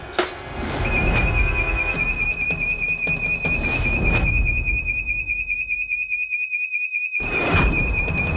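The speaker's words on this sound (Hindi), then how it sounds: "फायर अलार्म, कहीं आग लगी है।" A fire alarm rings with a continuous high-pitched electronic tone, loud and sustained for several seconds, with clattering bangs and noise beneath it and a brief drop-out before it resumes.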